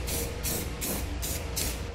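Aerosol clear coat paint being sprayed onto a truck bed in repeated short hissing bursts, close and even, with brief pauses between passes.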